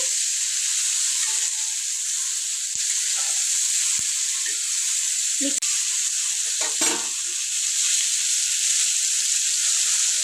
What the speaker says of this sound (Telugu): ఇట్లా సిమ్లో పెట్టి వేయించుకున్నాము మనకి నూనె వేసిన వెంటనే మగ్గిపోతాయి ఉడంకాయలు